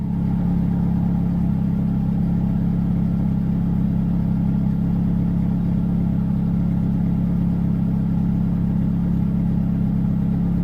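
A turbo truck engine idles steadily at close range, a continuous low rumble with an even tone and no revving for about ten seconds.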